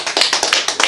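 Short burst of clapping at an annual general meeting of an association, streamed online: a handful of close, sharp claps in a quick, uneven rhythm, lasting under a second.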